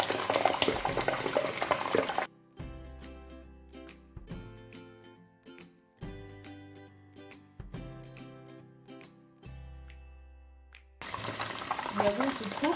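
Beef drops into heated palm oil for okro stew, and bursts of loud sizzling and bubbling come in and out between stretches where music plays.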